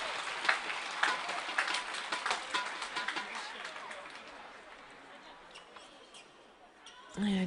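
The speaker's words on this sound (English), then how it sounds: "That's excited the crowd." Crowd at the 2012 Badminton Asia Championships finals cheering and clapping after a long rally, a burst of applause that gradually fades out, with a commentator talking over it.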